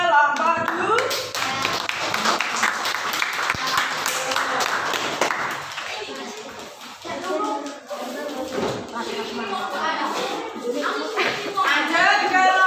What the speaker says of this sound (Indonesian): Kita beri tepuk tangan untuk kelompok 2.